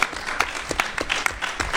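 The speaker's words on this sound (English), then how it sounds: "Do we maybe want to hold applause until everybody's done because there's gonna be a lot of clapping?" Applause from a convention panel audience at RTX 2017 fills the clip, with bursts of claps and whoops rising over a steady crowd patter, fairly close and loud.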